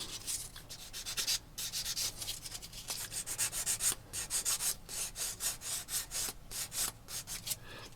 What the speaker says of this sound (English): So I'm going to sand a little bit of the old joins.